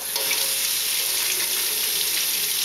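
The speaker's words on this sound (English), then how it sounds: "you can easily just run the bottom of the thing under hot water, warm water" Warm tap water runs steadily over the bottom of a plastic container holding steel cut oatmeal, making a continuous close hiss and splash in a kitchen sink, with no talking.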